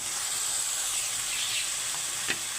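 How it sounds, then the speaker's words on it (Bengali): Boiled jackfruit and potato fry in a spiced curry base, giving a continuous soft steamy hiss and sizzle, with one faint stirring knock near the end. "তো আমি আর একটু কষিয়ে নেবো, আরও 1 মিনিট কষিয়ে নেব।"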